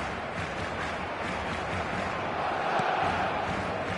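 Stadium crowd noise from an eFootball match, a dense, steady roar of cheering and applause at moderate level with no talk.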